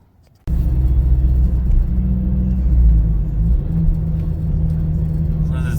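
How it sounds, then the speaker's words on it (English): Low, steady exhaust drone from a straight-piped Ford Fiesta ST cruising in third gear at about 30 mph with the windows up, heard from inside the cabin as a continuous rumble after a brief quiet start. "this is third gear, doing about 30 miles an hour with the windows up"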